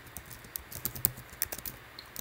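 Rapid, irregular clicking of computer keys as someone types a short program, close-up and fairly crisp with no voices.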